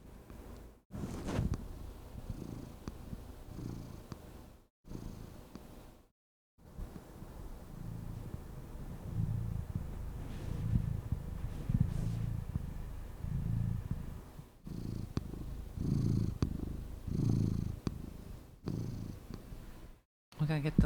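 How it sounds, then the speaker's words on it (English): A house cat purrs steadily while being brushed, a low soft rumble in repeated breaths with brief gaps, close by and fairly quiet, with occasional faint rustling of fur. "We gotta get those authentic cat sounds"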